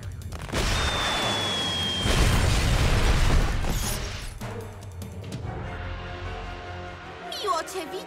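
Cartoon explosions go off from Harley Quinn's explosive toys in the animated DC Super Hero Girls series: a whistling streak leads into a run of loud booms and crashes, then settles into a lingering rumble with scattered clatter.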